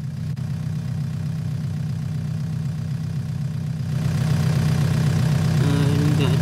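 Farm tractor engine in a farming video game, a steady low idling rumble that runs throughout and grows slightly louder partway through, with no talk.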